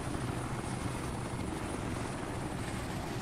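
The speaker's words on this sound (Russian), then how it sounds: "Вертолет с пулеметчиками улетает на базу." A helicopter carrying machine gunners drones steadily in the video game Insurgency, its rotor hum constant and fairly close throughout with no voices.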